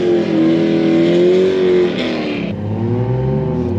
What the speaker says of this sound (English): racing against a 600 horsepower 240